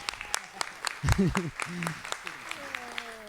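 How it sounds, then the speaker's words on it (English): Scattered clapping from a theater audience, soft and sparse, underneath a person talking. "let's give her a round of applause."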